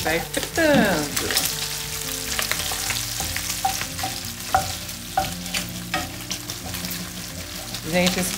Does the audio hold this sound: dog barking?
no